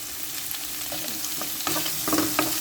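Onion is stir-fried with shrimp in a pan, giving a close, steady sizzle with bursts of scraping and stirring clatter that grow busier toward the end.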